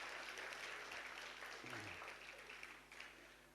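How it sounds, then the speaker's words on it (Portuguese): Faint, steady applause from a crowd, heard at a distance, gradually tapering off toward the end. "Uma salva de palmas para eles, merecem."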